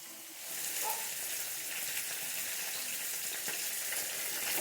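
Pieces of katla fish frying in hot oil for a Bengali ghot kochu methi katla dish give a steady close sizzle, with a few faint stirring scrapes and no voices.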